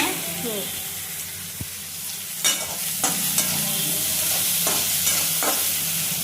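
Onion sizzling loudly in hot oil with cumin and mustard seeds, a dense steady crackle with occasional sharp pops and stirring scrapes, no talk over it.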